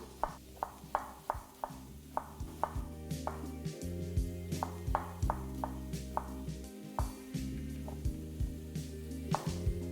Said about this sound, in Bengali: আমি এখানে আপনাদের টমেটোটাকেও কেটে দেখাচ্ছি।